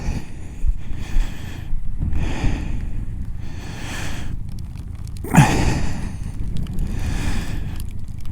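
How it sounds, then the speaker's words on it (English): Gusty wind at a highland motorcycle campsite, rushing against the microphone in repeated surges and lulls, with one sharp louder buffet partway through. "the wind's blowing as well"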